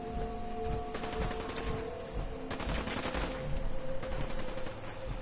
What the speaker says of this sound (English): I hear a lot of automatic gunfire.